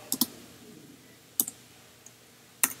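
Sparse key clicks on a computer keyboard, small clusters of two or three taps separated by pauses, close and fairly crisp.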